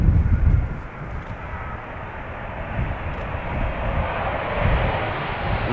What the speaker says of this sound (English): KLM flight 644, 777-200 arriving from New York, JFK